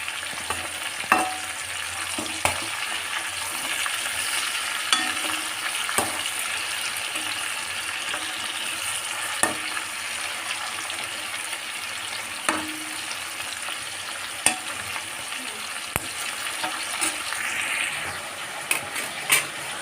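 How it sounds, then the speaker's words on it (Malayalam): Chicken pieces fry in a pan and are turned over. A continuous close sizzle runs for about twenty seconds, punctuated at irregular intervals by sharp utensil clicks and scrapes. "ചിക്കനൊന്ന് മറിച്ചിട്ട് കൊടുക്കാം കേട്ടോ നന്നായിട്ട് പൊരിച്ചെടുക്കേണ്ട ആവശ്യമില്ല"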